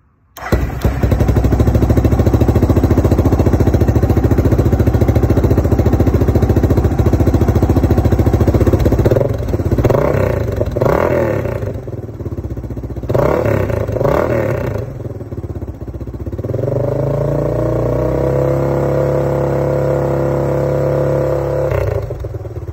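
A Suzuki DR650 motorcycle fitted with a Supertrapp exhaust starts up and runs loud and close, a deep thumping single-cylinder idle broken by several sharp revs before settling into a steady rumble.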